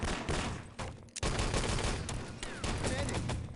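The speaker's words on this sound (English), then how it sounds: "Some pretty nice shooting from Smack there." Rapid bursts of gunfire from a competitive 6on6 Enemy Territory LAN match crackle loudly and almost continuously, with a brief gap near the middle, under a commentator's voice.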